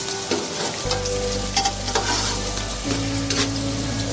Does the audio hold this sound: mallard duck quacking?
no